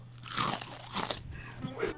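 Honey-flavoured crunchy puffed snacks are bitten and chewed up close in an animated scene, giving several loud, dry crunches in quick succession.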